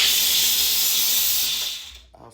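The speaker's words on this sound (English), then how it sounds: "let me just show you how the steam comes out." A Wagner Spraytech 915e on-demand steam cleaner releasing a jet of steam into a sink, a loud steady hiss that holds for nearly two seconds before cutting off abruptly.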